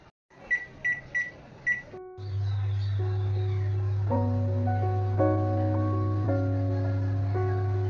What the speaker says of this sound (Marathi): ओव्हन आपण 1 मिनिटासाठी प्री हीट करून घेऊया